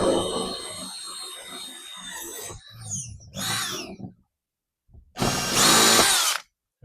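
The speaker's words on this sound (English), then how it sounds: "what I'm going to do is just use a little tapered drill bit" A power drill fitted with a small tapered bit whines in a few separate bursts, ending in one loud, high-pitched run, while a sprinkler controller is being installed.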